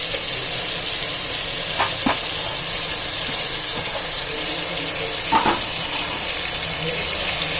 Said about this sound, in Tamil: இப்போ வந்து அரைச்சி வச்ச வெங்காயத்தை போட்டுக்கலாம்